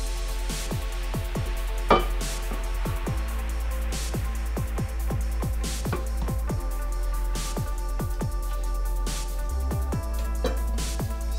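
A knife cuts a sushi roll into pieces, making a long series of soft, quick taps and clicks on the board over a steady low hum.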